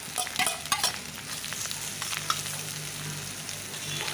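Cooked rice and carrot are stir-fried in a pan for lemon rice, a steady sizzle broken by a few sharp scraping clinks of the spatula early on, then a softer continuous frying hiss.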